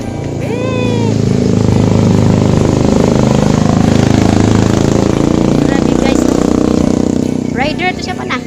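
Motorcycle engine droning steadily nearby, loud and continuous throughout, with faint squeaky chirps at the start and end.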